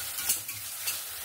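Spices with Kashmiri chili powder and salt stirred in a hot pan for a hilsa fish curry: a brief, close scrape of the spatula over a steady sizzle, two quick stirring strokes.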